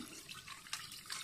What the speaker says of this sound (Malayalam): ഇനി ഇതിലേക്ക് വെള്ളം ഒഴിച്ച്